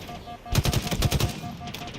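Enemy automatic fire in the Halo Infinite campaign rattles in a rapid burst of shots lasting under a second, loud against a steady background game tone.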